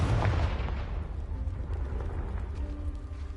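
A Confringo spell blast in Hogwarts Legacy bursts loud and close at the start, booming low with a sharp crack, then rumbles and settles into a lingering crackling tail.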